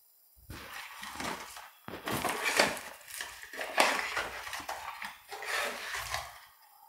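A teaspoon clinks and scrapes in a container while beet juice powder is measured out, with close, irregular scoops and taps across the clip and no talking.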